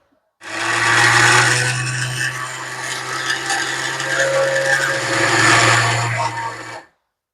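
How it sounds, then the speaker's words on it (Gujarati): A kitchen mixer grinder pulverises pieces of bhakhri flatbread into powder, a loud steady motor whine with gritty rattling of crumbs in the jar, running about six seconds before stopping. "હવે જોઈ લો એને ચૂરો કરવાનો વારો આવી ગયો છે મિક્સરની અંદર તો બધી જ ભાખરી લઈ લીધી છે"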